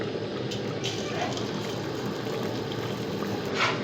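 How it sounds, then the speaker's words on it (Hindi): Garlic tadka for aloo palak sizzles in hot oil, making a dense, steady crackling hiss that holds for the whole stretch with no break. "पूरी लहसुन डाल लें। देखिए कितना मज़ेदार सा हमारा तड़का लगा है।"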